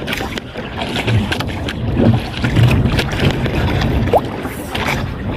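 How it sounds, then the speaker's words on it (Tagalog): Loud, steady wind buffeting the microphone outdoors at sea during night spearfishing in the Philippines, with sloshing water and occasional faint thumps throughout. "kaso mahangin"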